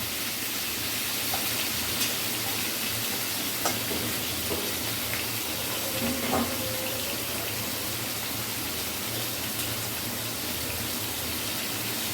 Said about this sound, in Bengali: দেখো চিকেনগুলো সুন্দরভাবে ভাজা হচ্ছে, বেশ লাল লাল করেই ভাজবো